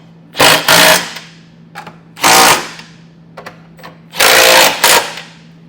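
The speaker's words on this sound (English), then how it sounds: "then we can snug all this hardware down" Hardware on a Curt Class III trailer hitch being snugged down on a 2021 Tesla Model Y with a power tool, loud close rattling bursts, three longer runs and a couple of short taps.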